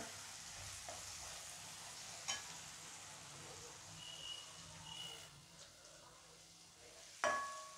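A coriander bhaji mixture cooks in a pan with a soft, low sizzle and occasional light stirring clinks, faint and close, with a sharper scrape near the end and no voices.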